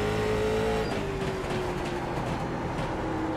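Engine drone of a NASCAR Late Model race car on a short track in the iRacing simulator, a steady loud hum with a slowly falling pitch as the car lifts off, continuous throughout with no talk.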